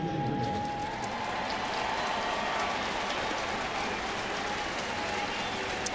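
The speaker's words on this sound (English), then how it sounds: "Nice round of applause again for Chipper." At a Braves–Cardinals baseball game, a stadium crowd applauds for Chipper in a sustained, even wash of distant clapping and crowd noise with a faint announcer's tone early on.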